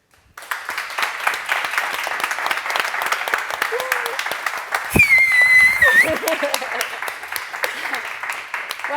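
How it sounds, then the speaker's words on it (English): An audience applauds at the close of a talk, with steady dense clapping throughout, a whistle cutting through midway, and voices mixed into the crowd. "That's the kind of applause you get when you bring your own rental crowd"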